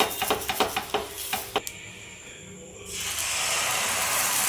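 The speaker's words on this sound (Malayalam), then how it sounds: "ഓരോ തന്നെ മാവായിട്ട് ഒഴിച്ച് കൊടുത്തിട്ട് ദോശ ഉണ്ടാക്കിയിട്ട് സൈഡിൽ കുറച്ച് ഓയിൽ ഒഴിച്ചു കൊടുക്കാം." Spinach dosa batter sizzles in oil on a hot dosa griddle, a steady broad hiss that swells and holds after a few short clattering taps and a brief quieter pause.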